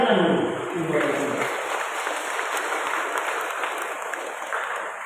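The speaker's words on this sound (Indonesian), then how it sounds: "Tepuk tangan dulu." Audience applause at a church mission celebration in a parish, a burst of many hands clapping that starts strong and continues as a sustained, slightly fading patter, with a voice speaking briefly at the start.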